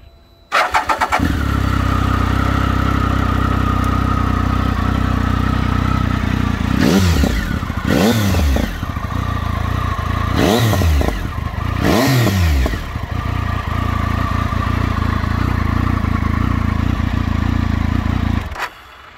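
Triumph Tiger 1050 motorcycle with a 115-horsepower engine and an aftermarket exhaust starts up and idles steadily, with four sharp revs midway before it settles back to a loud, close idle and shuts off.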